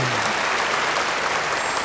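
A dense burst of applause from a church congregation fills the whole moment, many hands clapping together at an even, loud level.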